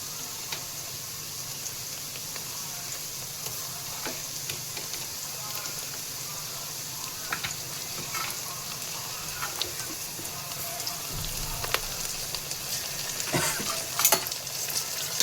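Ginger-garlic paste fries with browned onions for Chennai-style homemade biryani, giving a steady close sizzle and hiss throughout, broken by occasional scrapes and clinks of a stirring spoon that grow slightly busier toward the end.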